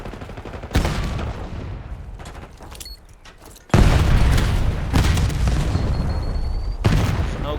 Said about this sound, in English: He's outgunning me with an SMG across the map.